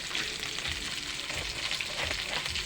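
Small crablets frying in a hot pan give a dense, steady sizzle that runs the whole time, close and loud, with no talking over it.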